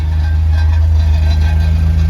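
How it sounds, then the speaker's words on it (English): Morris Minor idling with a loose exhaust touching somewhere, giving a steady low rumble with a faint continuous rattle throughout, close and even, with no talk over it. "That's the sound of the exhaust rattling"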